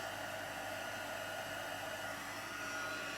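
A heat tool blows steadily and loudly at close range, melting embossing powder on a handmade card, a continuous even rushing hiss with no break and no talking.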